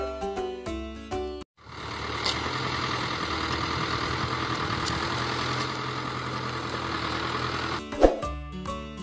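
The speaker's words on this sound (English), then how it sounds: "Tractor. This is tractor." A tractor engine idling steadily at a constant low, rumbling pitch for several seconds, fairly faint and alone, framed by brief musical tones before and after with a sharp knock near the end.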